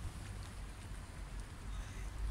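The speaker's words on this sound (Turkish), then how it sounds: "Hava o kadar şey ki burada şu an yağmurlu." Steady rain falls over a quiet coastal town with fishing boats offshore, a faint, even wash of patter with a low rumble beneath and no voices.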